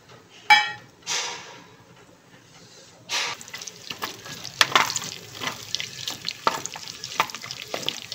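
Whole spices sizzling in hot ghee inside a pressure cooker for paneer pulao: a sharp hissing burst, a second splash of crackle, then a steady close frying sizzle with scattered pops and clatters, no talking.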